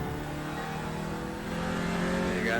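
A race car engine on a track during pro driver training drones steadily under a squeezed throttle, its pitch climbing slightly as it accelerates toward the end, close and continuous with no talking.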